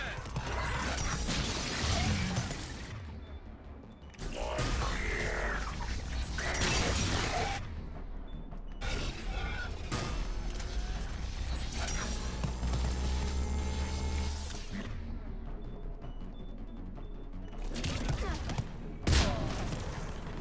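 Dense gunfire, blasts and crashing debris from combat in the video game Mass Effect 3 roar almost continuously, loud and layered, with brief drops in the din.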